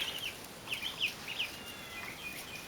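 Soft, scattered clucking from a few hens, short high calls popping up intermittently over a quiet background hiss.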